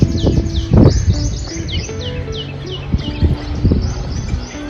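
Parrots and sparrows perched in trees beside a farm give quick, bright chirps and tweets in repeated bursts, fairly close, over a low rumbling outdoor background.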